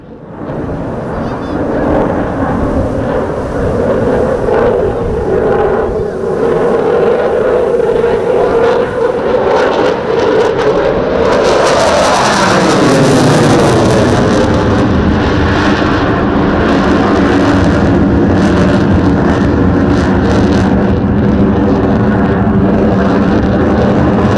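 A German Eurofighter Typhoon (EF-2000) roars past at the Malta International Airshow: a loud, sustained jet rush whose pitch climbs and then sweeps sharply down as it passes overhead, with a continuing roar afterward and talk underneath.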